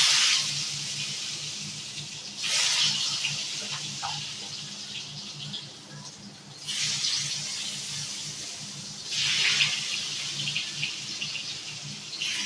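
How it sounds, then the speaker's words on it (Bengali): Pointed gourd (potol) pieces frying in hot oil, a steady broadband hiss with louder bursts where the pieces are stirred or turned, close and continuous with no talking. "আগে পটলটা ভাজা করি,"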